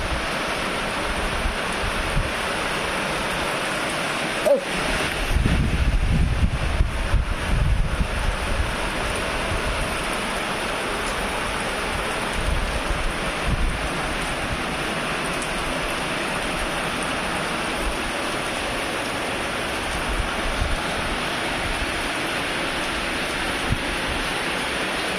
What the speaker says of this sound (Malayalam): ഇവിടെ നല്ല മഴയുണ്ട്